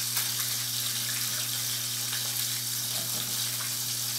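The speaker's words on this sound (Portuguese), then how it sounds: "Estou terminando de fritar o último." Breaded fish pieces frying in hot oil in a home kitchen, a steady dense sizzle running continuously throughout, close and fairly loud, with no talk.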